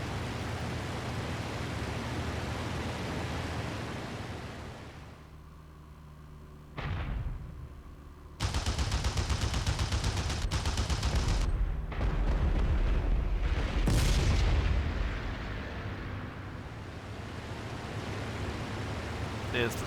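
Aircraft cannon fire in the IL-2 flight simulator game: a short burst, then long rapid volleys of loud, dense shots over a steady engine roar.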